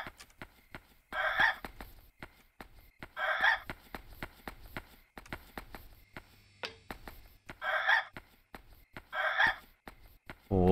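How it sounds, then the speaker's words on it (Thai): Chickens cluck in the video game Yomawari: Night Alone, four short clucking bursts spaced a few seconds apart against an otherwise very quiet background. "นอกจากเสียงไก่ที่เราพามา"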